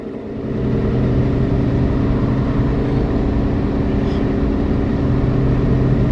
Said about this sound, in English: Doing a little over 60 mile an hour.